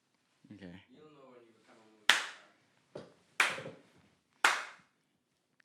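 Four sharp single hand claps, loud and close, spaced about a second apart, follow a stretch of brief speech-like voice; each clap has a quick attack and short decay in a quiet room.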